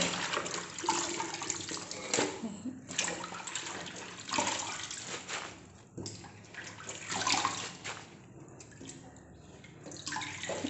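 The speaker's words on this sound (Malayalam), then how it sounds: "അടുത്ത ഒരു പാത്രത്തിലോട്ട് കഴുകി ഇടാം." Leafy greens such as Malabar spinach and ivy gourd leaves are washed by hand in a vessel of water in a home kitchen, with steady, close sloshing and splashing and no voices.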